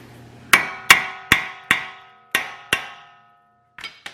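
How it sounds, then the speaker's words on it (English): Six sharp metallic hammer strikes ring out at a steady pace, tapping bolts through a Chevy Equinox steering knuckle, each decaying briefly, followed by a couple of lighter taps after a pause. "I'm putting these back on so I can tap them through with the hammer"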